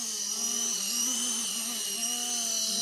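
An RC Era C189 helicopter's motor runs at about three-quarters throttle, a steady high-pitched whine with a buzzing hum beneath that wavers slightly in pitch, heard close and continuous.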